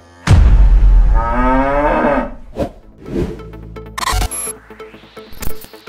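A cow gives one long, loud, close moo that fades out, followed by a few quieter rustles and clicks.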